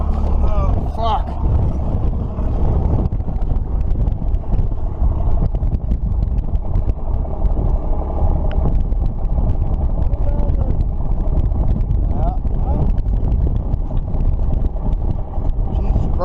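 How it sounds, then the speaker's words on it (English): Strong wind gusts buffet the microphone in a steady roar on a snowy day outdoors beside a Cat loader, with people speaking briefly over the rushing noise. "Jesus Christ, it's fucking windy."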